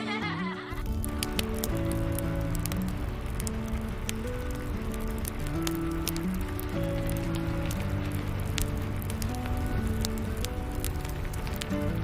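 Steady, close rain pattering on surfaces for a cozy rainy-day ambience, with soft melodic tones drifting over the constant hiss.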